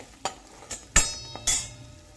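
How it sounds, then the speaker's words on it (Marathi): Black masala being sautéed in oil for a Marathi dubuk vadi bhaji, a few distinct stirring scrapes and spoon-against-pan clinks over a soft, faint sizzle, close and intermittent, with no speech. "मसाला तो पण छान आपला असा परतून घ्यायचा तेल सुटेपर्यंत"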